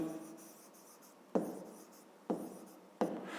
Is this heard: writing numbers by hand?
yes